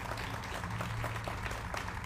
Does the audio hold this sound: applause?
yes